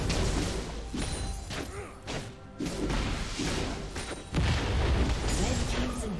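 A League of Legends structure blows up amid a busy fight, heavy crashing thuds and booms layered with whooshing ability effects, ending in a louder impact burst near the close.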